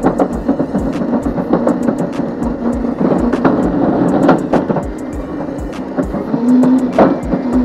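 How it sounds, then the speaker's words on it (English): A Crazy Cart XL electric go-kart drifts through a park, with a continuous whirring electric motor hum under rapid repeated ticking and scuffing from the tires, loud and close. "I'm gonna drift this whole thing"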